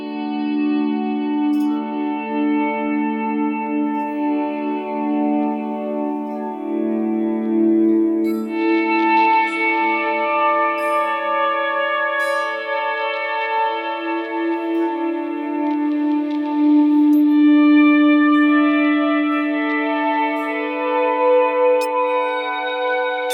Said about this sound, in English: So with one button and I turn on that reverb button, this is what happens.